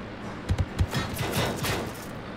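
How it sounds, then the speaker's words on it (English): Artillery shells land in the tank game World of Tanks: a few dull, muffled thumps and short crackling bursts at low volume over steady background rumble. "Yeah, that's definitely artillery."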